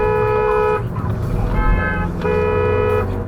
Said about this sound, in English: Meth Mouth Marcia, fails to yield to us and then honks back.